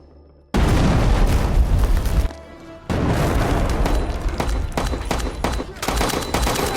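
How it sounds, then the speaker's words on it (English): A grenade explosion bursts in with a loud boom, followed by a short lull, then sustained heavy blasts and rapid gunfire-like crackling that continues to the end. "Max and his men follow, throwing in a grenade."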